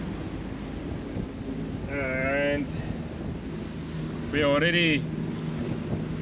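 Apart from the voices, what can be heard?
Leopard 45 catamaran engine running at higher RPM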